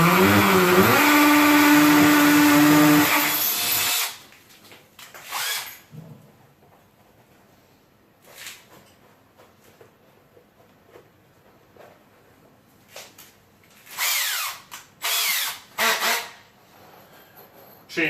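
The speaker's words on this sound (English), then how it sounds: "We've got the Tapcon, and now we are going into the wall." A drill drives a Tapcon screw into a concrete block wall with a loud, steady whine that runs for a few seconds and then stops, leaving a quieter stretch broken by brief thumps and short bursts of handling noise.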